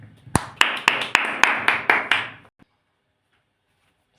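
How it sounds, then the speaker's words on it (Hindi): A church congregation at a Good Friday service claps to welcome a speaker: about eight sharp, evenly spaced claps that fade out after two and a half seconds, leaving silence. "तालियों के साथ।"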